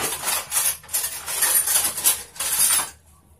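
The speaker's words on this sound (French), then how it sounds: "Je prends une cuillère" A spoon scraping and clinking inside a pot of potimarron pumpkin soup, several close metallic stirring passes in bursts, then a sudden stop into near silence.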